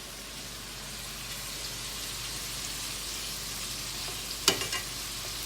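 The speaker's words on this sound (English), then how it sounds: "I'm gonna flip the shrimp" Shrimp frying in a hot pan for shrimp scampi, a steady close sizzle throughout with a brief louder spatter and clatter near the end as they are flipped.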